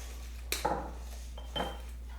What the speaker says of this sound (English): if you want to crack the pepper in there